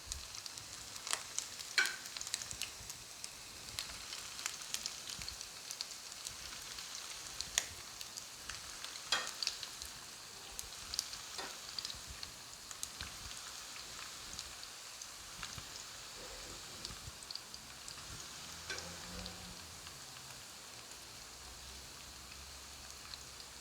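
Meatballs frying in a pan, making a continuous crackling sizzle with scattered pops and spatters throughout, steady and close at a moderate level, with no talking.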